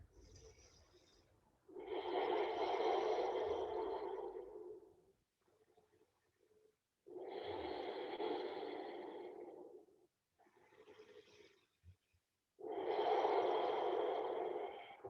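Deep breaths held in a forearm balance yoga pose: three long, airy exhalations, each a few seconds long, with quieter inhales in between, close and soft.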